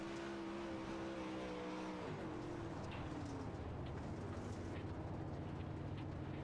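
Race cars on their final lap roar steadily, with engine tones sweeping and dropping as cars pass, amid continuous dense motor noise and faint squeals.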